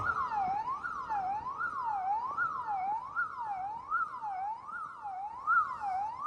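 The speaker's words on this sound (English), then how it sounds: "there's a siren going" A wailing siren rises and falls in a steady repeating cycle, moderately distant, with faint background noise and no talking.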